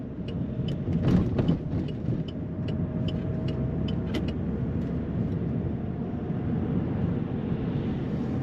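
An MG6 Magnette TSE turbo drives over rough, potholed town and valley roads, giving a steady, loud interior rumble of engine and road noise with a few brief knocks and rattles from the suspension.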